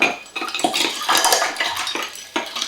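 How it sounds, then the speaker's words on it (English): Ice and liquid clatter as a Bermuda rum swizzle is swizzled hard in a tall pitcher, with a steady run of close, rattling churns and clinks broken by brief pauses. "You may now swizzle."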